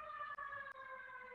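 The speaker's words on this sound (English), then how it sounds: "siren going by me." An emergency siren passes outside, a steady wailing tone with layered harmonics that holds loud and continuous throughout, broken by two tiny dropouts.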